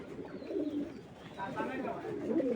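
Pigeons kept by a breeder for sale and tournament racing coo in low, soft bursts, nearby, under someone speaking.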